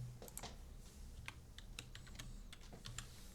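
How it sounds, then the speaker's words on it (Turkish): Quiet, rapid computer keyboard typing, a rhythmic patter of individual key clicks with no voices. "Klavye sesleri burada."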